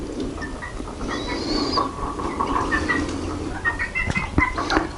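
Laying hens cluck and murmur in a henhouse at night, a dense, moderately close chorus of soft clucks and short calls with no talking.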